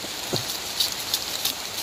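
Steady rain falls outdoors and patters on surfaces, a continuous hiss with a few brighter drip taps standing out. No one speaks.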